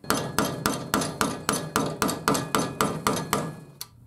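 A hammer striking a screwdriver to drive a bearing on a BMW R100S motorcycle front end, about twelve sharp metallic blows at a steady quick rhythm, close and loud, ending with a lighter tap.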